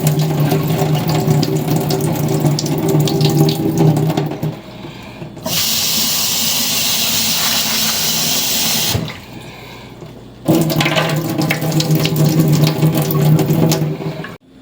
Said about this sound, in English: rinse them one last time.